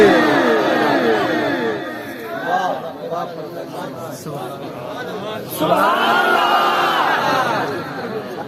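A large gathering at a religious talk roars back in unison, many voices shouting together in loud rising chants with overlapping crowd noise, swelling again in a second burst toward the end.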